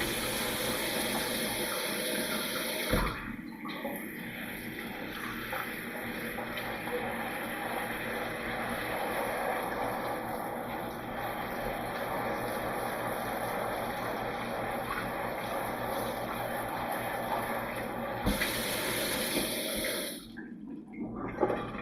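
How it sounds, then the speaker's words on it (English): A hot water sprayer rinses a paintball mask, giving a steady, loud hiss of spraying water that runs almost unbroken for about fifteen seconds, with brief sharp knocks near the start and end. "So let's get our hot water fired up."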